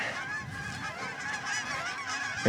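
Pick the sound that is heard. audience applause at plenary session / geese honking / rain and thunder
geese honking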